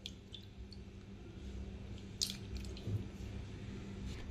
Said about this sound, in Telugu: మళ్ళీ ఒకసారి ఫ్రెష్ వాటర్లో నీట్గా క్లీన్ చేసుకోవాలండి